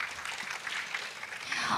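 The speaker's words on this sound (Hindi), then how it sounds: "एक बार फिर से जोरदार तालियां हो जाए हमारे वांगमू के लिए" Applause from a studio audience at an Arunachal Idol dance song round, honouring a contestant, a steady dense wash of clapping throughout the short moment.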